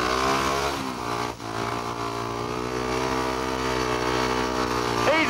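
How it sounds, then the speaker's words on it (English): A speedway motorcycle revs hard and accelerates, its engine a loud, steady, strongly tonal drone that holds close and continuous, rising slightly near the end. "you just got to wind her up quite a bit and just drop the clutch"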